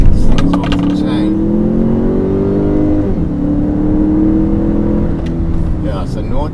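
A Chery Tiggo 8 Pro Max SUV accelerating hard up a hill, its engine droning and rising steadily in pitch, easing briefly midway before climbing again, heard from inside the cabin while people talk over it.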